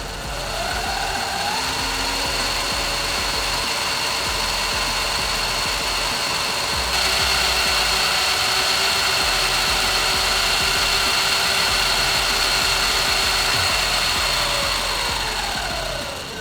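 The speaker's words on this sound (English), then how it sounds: "we're gonna do a chain drive noise test right now" An electric dirt bike's chain drive runs steadily under throttle on a stand, giving a loud, continuous whir and mechanical rattle with a rising pitch near the start and a slight shift partway through, with no talking.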